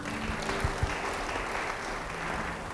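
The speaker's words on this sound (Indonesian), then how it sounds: "Beri tepuk tangan bagi dia." Audience applause fills a church service, a steady wash of clapping from a crowd that holds evenly for a few seconds without any talking over it.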